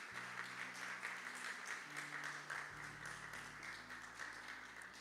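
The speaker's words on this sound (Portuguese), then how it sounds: "Pode aplaudir." Congregation applauding during a Wednesday evening church service, a steady dense wash of clapping hands filling the room throughout, with soft organ or keyboard tones sustained underneath.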